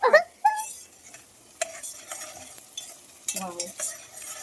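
Biryani ingredients stirred in a pan at home, a spoon scraping and clinking against the metal with a faint sizzle, in short bursts with pauses between strokes.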